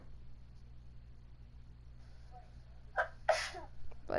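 A person sneezes indoors over a low steady hum, a sudden close burst near the end preceded by a short intake of breath, with a further faint breathy sound just after.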